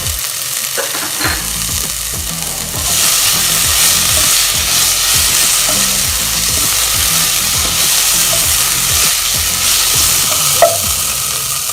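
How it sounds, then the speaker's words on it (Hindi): Onion and tomato sauté in a hot pan, a loud, close sizzle that swells after a quieter start, broken by repeated scraping strokes of a spoon stirring the mix. "थोड़ा सा प्याज शामिल कर लेंगे इस फेस पे, इसे ट्रांसपेरेंट कर लेंगे, सौते कर लेंगे।"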